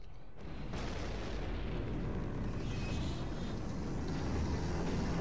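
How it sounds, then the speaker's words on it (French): Explosion in the video game Final Fantasy IX: a sudden blast onset that swells into a dense, sustained low roar and rumble, steady and fairly faint, with no voices over it. "Avec une explosion pareille"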